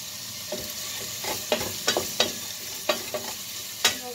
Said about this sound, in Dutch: aan het bakken